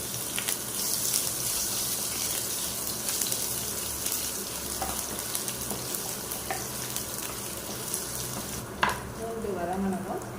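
Two chilies and crushed garlic fry in a pan with a dense, continuous sizzle, broken near the end by a brief clank and some bubbling.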